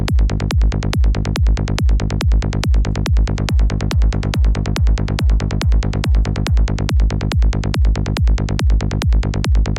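A loud, gritty synth bass pulses in a steady, fast repeating rhythm, each hit sharp and buzzy with a full low end, playing alone.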